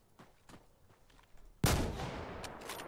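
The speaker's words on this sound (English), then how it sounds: "Let's see if we can get him with a sniper shot to end it." A single sharp, loud sniper rifle shot in the video game Insurgency: Sandstorm bursts out after quiet footstep-like shuffling and rings out with a lingering echoing tail.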